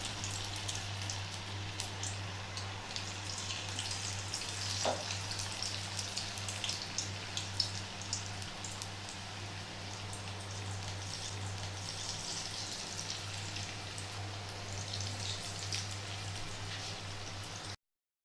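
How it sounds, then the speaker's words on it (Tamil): Potato bites deep-frying in hot oil make a steady, dense crackling sizzle like rain, heard close and continuous over a low hum, with no one speaking. "ஒன்று ஒன்றா போட்டு பொரிச்சு எடுக்கணும்"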